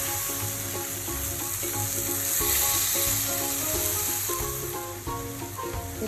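Carrot sondesh mixture with a little cardamom stirred in a pan, giving a steady close sizzle with scraping strokes, while music plays underneath throughout.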